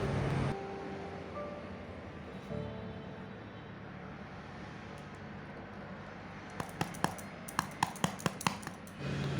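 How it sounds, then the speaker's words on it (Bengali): A knife works whole-wheat atta bread loose from a bowl, first as a faint scraping hush, then as a quick run of light, sharp taps and clicks close by, with no talking. "তো সবার প্রথম ছুরি দিয়ে বাটি থেকে পাউরুটিটাকে এভাবে ছাড়িয়ে নেব"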